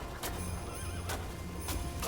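A horse in a video game whinnies, with hoof clip-clops and a steady game background bed, across a short loud stretch.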